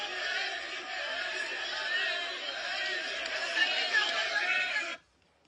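Big political crowd at a UFDG gathering, a continuous wash of chatter and shouting voices that holds steady, then cuts off abruptly near the end.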